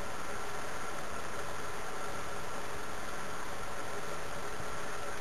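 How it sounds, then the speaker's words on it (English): A Wilesco toy steam engine takes steam in a small workshop, giving a continuous even hiss of escaping steam with no distinct beats, steady and fairly close throughout. "Let's introduce a little steam to the engine."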